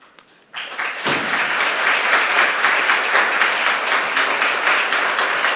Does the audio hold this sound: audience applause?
yes